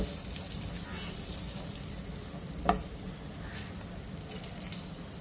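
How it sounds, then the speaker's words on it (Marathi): Poppy seeds and finely chopped dry fruits fry in ghee, a soft, steady low sizzle with gentle stirring and one brief sharp clink of a utensil against the pan. "एकदम बारीक केलेले ड्रायफ्रूट तुपावरती असं परतून घ्यायचं"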